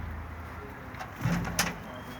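A single low coo from a black-headed breeding pigeon sounds briefly in the middle, with faint rustling and a light knock nearby.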